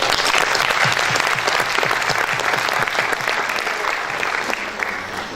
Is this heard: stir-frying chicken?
no